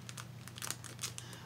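A small pouch-like hand warmer sack of non-plastic, cloth-like material filled with sandy contents, crinkling softly in irregular bursts as it is handled and opened, close and fairly quiet over a low steady hum.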